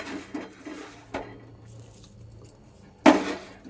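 Metal spoon clinking and scraping against a pot of thick, hot rice payesh, with a few scattered knocks and a louder clatter near the end; close and fairly quiet, with no talk.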